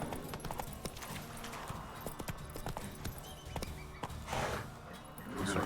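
Roach the horse walks in The Witcher 3, hooves clip-clopping in an uneven steady rhythm, fairly faint, over quiet game ambience with a brief louder rustle late on.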